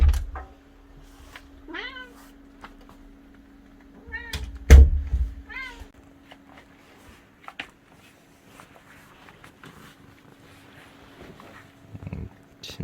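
A cat meows repeatedly in short rising calls indoors near a bed, mixed with a loud thump, soft knocks and shuffling, while a steady low hum runs underneath.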